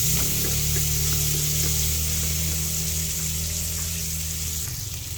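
White and red onions frying in a pan for sarsiadong bangus, a steady close sizzling hiss with a low hum underneath that continues evenly, without speech.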